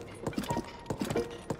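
Horse hooves clip-clop in a quick rhythmic gallop in The Legend of Zelda: Tears of the Kingdom, three clear beat clusters of hoofbeats repeating close and steady with no talk.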